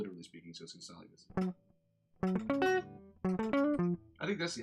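After a brief stretch of talking, an electric guitar plays the OD riff at a slower pace, with a few spaced, ringing picked notes and short pauses.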